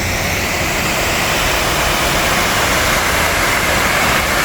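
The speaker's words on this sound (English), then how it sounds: "behind me you can hear the river coming over the weir" River water pouring over a weir in a small town, a loud, constant broadband rushing that stays steady and unbroken from start to finish.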